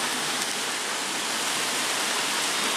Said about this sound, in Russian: Там, оказывается, даже град.